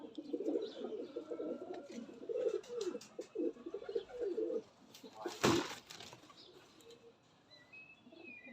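Young pigeons, a group of twelve squabs kept for sale, cooing softly in low murmuring phrases, with a brief sharp burst of wing flapping or handling noise midway and faint chirps above.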